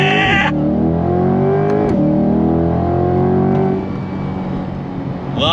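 A C8 Corvette Stingray 70th Anniversary Edition with a pushrod V8 launches hard from a standstill, the engine climbing loud and close through the revs with a brief dip at a gear shift, then easing toward the end.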